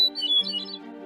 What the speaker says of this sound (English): Many birds, like the hermit thrush, sing pentatonic scales.